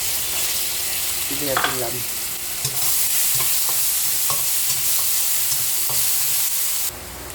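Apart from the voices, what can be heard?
fried onion with ginger and garlic sizzling while stirred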